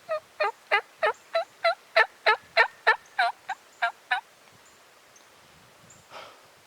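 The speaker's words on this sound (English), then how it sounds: "Here comes the hen." A wild turkey hen yelps in a clear series of about thirteen evenly spaced calls near a creek line, close and loud, ending with a soft rustle in an otherwise quiet woods.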